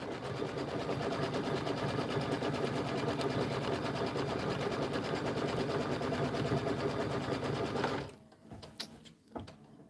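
Embroidery machine stitching a background placement on the left side of a Kimberbell bunny bench pillow, a steady fast mechanical whir running for about eight seconds before stopping, followed by faint handling noises.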